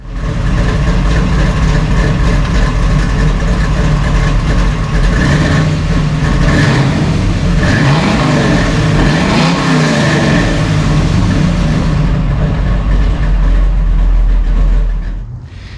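A 1968 Nova Super Sport V8 rumbles through straight-through stainless steel mufflers, a deep continuous loud idle with a couple of revs rising and falling midway before settling.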